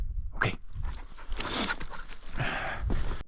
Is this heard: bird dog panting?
yes